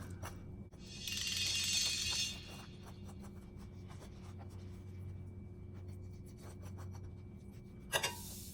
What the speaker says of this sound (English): now we're going to just take a fork and scrape the insides of that spaghetti squash.